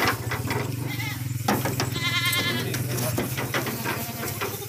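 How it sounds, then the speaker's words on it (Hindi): Several tall goats of breeds such as Makki Cheeni and Ablaq bleat and call from close by, with overlapping cries over a steady background hum. "ये देखें माशाल्लाह, बड़ी हाइट वाली बकरियाँ माशाल्लाह।"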